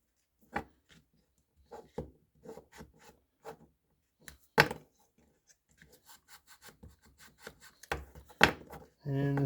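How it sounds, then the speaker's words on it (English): Paper seams on a Sharps cartridge box being rubbed down by hand, giving short, intermittent, close scraping strokes with quiet pauses between them. "it's best to rub all your seams down, that way the box fits real nice and smooth"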